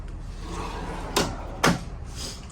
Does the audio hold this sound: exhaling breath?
no